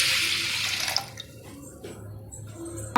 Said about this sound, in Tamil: இந்த தண்ணி வந்து கொஞ்சம் ஊற்றிக்கலாம்.